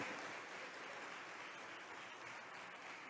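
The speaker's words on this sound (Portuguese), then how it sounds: "Você pode aplaudir Jesus por isso?" A church congregation applauds during a Portuguese-language sermon, a steady, dense wash of clapping from many hands that holds evenly for about three seconds with no voice above it.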